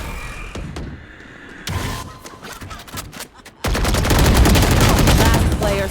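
Bursts of video game gunfire, with sharp scattered shots early on, then a sustained loud barrage of rapid fire over the final two seconds.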